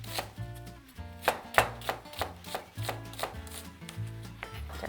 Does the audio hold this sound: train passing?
no